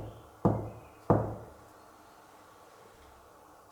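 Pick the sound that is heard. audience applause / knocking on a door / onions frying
knocking on a door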